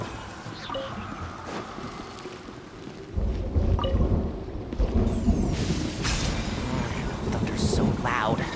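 Thunder rumbles in Genshin Impact, a deep booming swell that rises about a third of the way in and stays loud under steady rain-like hiss, with sparkly game effects flickering over it.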